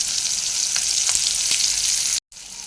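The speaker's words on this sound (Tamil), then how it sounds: "பூண்டு வெங்காயமும் 5 நிமிஷம் எண்ணெயிலே வதங்கிடுச்சு" Garlic and onion sautéing in oil for a Tamil garlic kulambu, a steady close hiss with light crackles and scraping, cut by a brief drop-out near the end.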